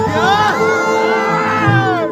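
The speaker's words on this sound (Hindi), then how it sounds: "एक बार जोरदार तालियां" A large crowd at a Bhojpuri music stage show cheers loudly and steadily, with whoops and shouting voices rising over a dense roar for about two seconds.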